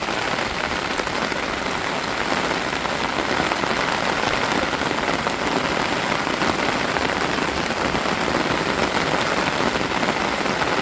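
Heavy rain pours steadily and loudly, a dense continuous hiss of drops drumming on surfaces with no pauses.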